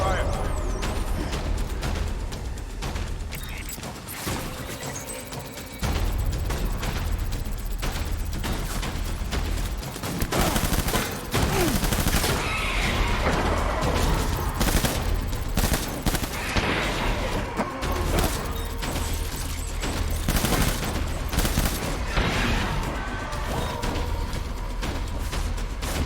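Video-game gunfire crackles in dense volleys and scattered shots, with booms and mechanical clatter throughout, while voices talk over the action.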